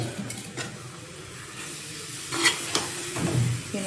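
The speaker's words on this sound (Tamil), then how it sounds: "இப்போ வந்து நம்ம மாங்காவை கொஞ்சம் கொஞ்சமாக கையை எடுத்துகிட்டு கொட்டிக்கலாம்." Mango pieces drop into bubbling syrup in a pan and get stirred, giving a steady sizzle and hiss with a few scraping clinks of the utensil against the pan.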